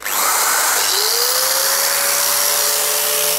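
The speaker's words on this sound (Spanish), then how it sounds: "Así que nos centramos con el taladro y con la radial." A cordless drill and an angle grinder run at once off a lithium battery power station, giving a loud, steady high whine with a rising tone as one motor spins up, unbroken and with no voices.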